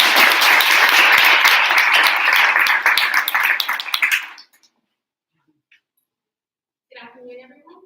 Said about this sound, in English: Please give a round of applause for Danielle Lee.